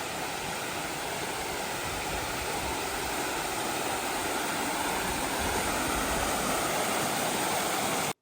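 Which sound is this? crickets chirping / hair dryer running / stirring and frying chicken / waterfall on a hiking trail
waterfall on a hiking trail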